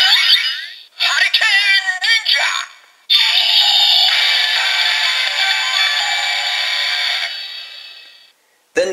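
Electronic name-activation call from a Kamen Rider DX Gashat toy (Hurricane Ninja or Mighty Creator VRX), bright synthesized voice and chimes in short bursts followed by a longer sustained jingle, loud and close with no talking.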